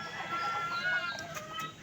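A Sweater-bloodline fighting cock, offspring of a Boston Sweater rooster, clucks quietly and steadily through a short stretch, fairly faint against a soft background hiss.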